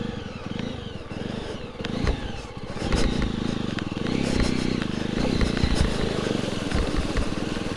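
A Jawa 42 motorcycle ridden off-road in Ladakh between Pangong and Hanle, its engine droning and rising steadily up close with some clattering, while someone talks over it.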